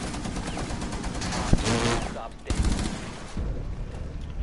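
Rapid gunfire in the Rainbow Six Siege shooter game rattles in dense bursts of shots, loud and sustained across the moment with a brief lull midway.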